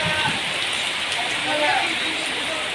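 Heavy rain pours onto the streets of Gaibandha town near a busy traffic junction: a steady, dense hiss fills the scene, with a voice faintly present.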